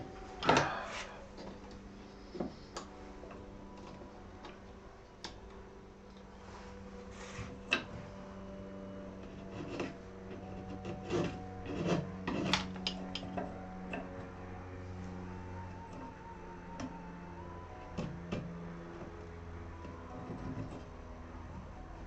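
Small wooden braces on the back of a guitar being lightly shaved by hand, giving faint scraping strokes and scattered soft knocks and ticks of the tool and wood, close by with a steady low room hum.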